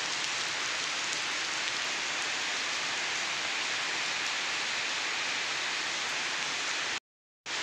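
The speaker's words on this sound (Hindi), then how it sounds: "बारिश हो रही है, बारिश।" Dense, constant downpour with a broad hissing roar, cutting off abruptly near the end.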